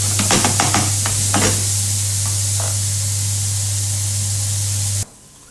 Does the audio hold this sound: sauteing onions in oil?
yes